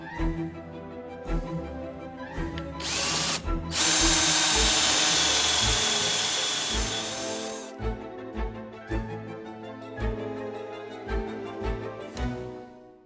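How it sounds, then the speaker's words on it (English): A power drill bores holes during work on retractable electric drives, with a long loud high-pitched whine in the middle and shorter spurts and clunks before and after, close by and without speech. "so drilling some holes, and when we've drilled some holes we can glue them in"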